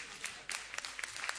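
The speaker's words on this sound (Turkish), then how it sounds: "O zaman alkışlar gelsin." A studio audience on a Turkish television show breaks into applause for a singer. The clapping is brief and scattered, with a few sharp, distinct claps.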